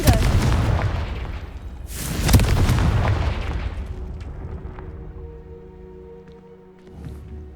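In Hogwarts Legacy, the Confringo blasting spell sets off two heavy booming explosions close together, a deep rumbling blast followed by another crash, then a long fading rumble with faint debris and ambience trailing off.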